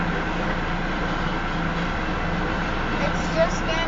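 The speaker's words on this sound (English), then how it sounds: "It's just gonna be another train with tankers" Union Pacific freight train of tanker cars rolling past, a steady loud rumbling drone of wheels and cars continuing evenly, with a faint brief sound near the end.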